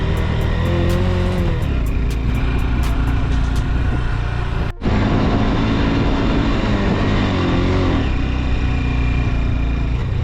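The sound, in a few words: Honda CB200X motorcycle climbing in first gear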